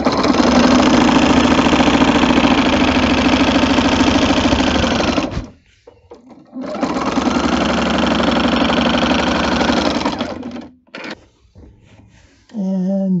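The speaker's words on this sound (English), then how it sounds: "I'm just going to sew this a little bit across the corner to lock it in place" A sewing machine with a walking foot stitches across the corner of a quilt in two loud, steady runs of rapid mechanical whirring separated by a short pause, and a voice speaks briefly at the end.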